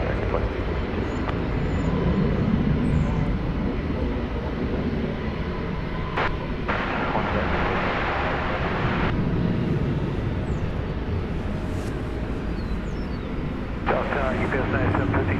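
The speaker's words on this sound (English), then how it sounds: "another American Airlines plane gets ready to take off for Seattle, it's an Airbus A321" An American Airlines Airbus A321 at Dallas Fort Worth airport makes a steady, moderately distant jet roar as it prepares for takeoff, with crackly air traffic radio chatter breaking in over it.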